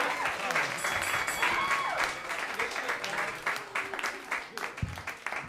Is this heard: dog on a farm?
no